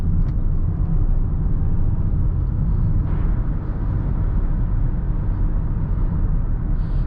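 A 2020 Mazda CX-5 SUV cornering, heard from inside the cabin as a steady low engine and road rumble that stays constant throughout, without any talking.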